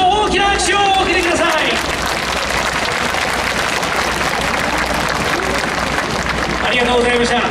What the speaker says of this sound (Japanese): 準ど祭り大賞を受賞した上昇そして上の皆さんにもう一度大きな拍手をお送りください